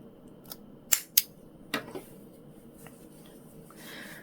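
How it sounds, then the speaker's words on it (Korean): Small thread snips cut crochet yarn with two crisp close snaps about a quarter second apart, followed by softer handling clicks and rustle, with no talking. "실을 정리한 다음에는 다듬어 주시고 쪽가위로 잘라줄게요"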